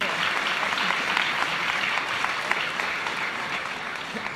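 Applause from an audience at a company all-hands meeting, a dense, continuous wash of many hands clapping at even loudness throughout, with no talk on top.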